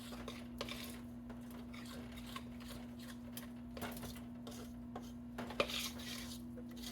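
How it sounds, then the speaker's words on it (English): A no-bake cookie mixture is stirred in a pot, with faint, sparse scraping and utensil clinks over a steady low hum and one sharper clink near the end. "I'll stir them up a little better and see"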